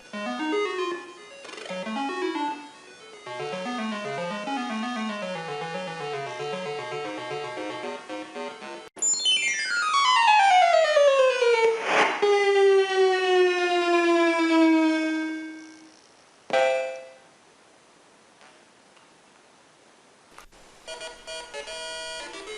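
Apple II game music plays through a Mockingboard sound card: bright square-wave melodies and arpeggios, then a long descending swoop with rich harmonics, a sharp burst, and short chiptune fragments near the end, with no voices.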